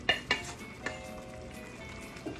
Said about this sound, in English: we're gonna add in our sauteed mussels. With all of the juices, oil, extra garlic, extra crushed red pepper